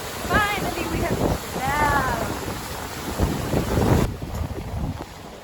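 A sailboat crossing the Atlantic as the wind dies: steady wind buffeting the microphone with hull and water movement beneath, and a voice speaking briefly at the start over the blustery noise.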